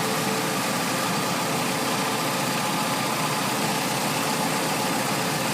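A carbureted Toyota truck engine idling steadily, a constant even rumble with no pauses, close and moderately loud.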